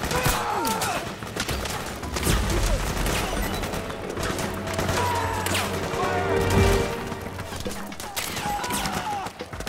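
Gunfire from the video game Resident Evil 2 bursts in dense overlapping volleys with crashes and thuds, sustained over a constant mix of game noise, with voices calling out over the shooting.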